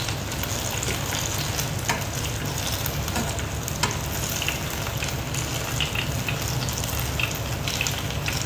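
Bananas frying in hot oil for pisang goreng, a constant close crackling sizzle with occasional sharper pops and stirring clicks, steady throughout with no talking.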